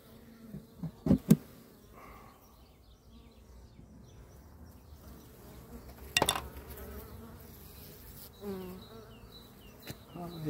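Honey bees buzz around open hive frames during a hive inspection, a faint droning hum with a few sharp handling knocks and clatters, and a voice speaking now and then.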